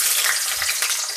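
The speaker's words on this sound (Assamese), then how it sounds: "কেৰাহী তেল গৰম হৈ গ'ল এতিয়া ইয়াত দি দিম আলুকেইটা কাটি থোৱা" Cut potatoes frying in hot oil in a wok, a loud close crackling sizzle that fills the whole short moment with no voices.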